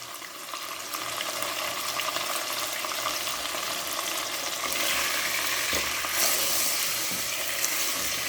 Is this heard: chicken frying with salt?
yes